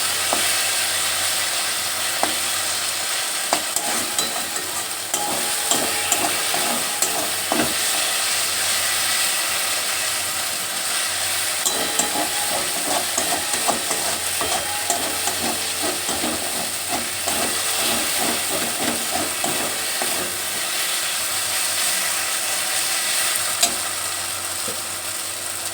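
Chicken kasha masala, stuck to the pan from lack of stirring, sizzles steadily up close while a utensil scrapes and stirs through it in repeated strokes, with occasional clinks over a constant frying hiss.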